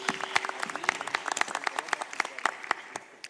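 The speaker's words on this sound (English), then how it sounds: "Round of applause, ladies and gentlemen," Audience at the Africa Fintech Summit 2025 pitch competition in Accra applauds a team, giving close, distinct individual claps in a quick irregular patter that fades toward the end.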